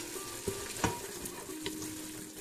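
Spices with cinnamon sticks and ginger stirred in a frying pan for chicken pastilla, a soft steady sizzle with a few scrapes of the utensil.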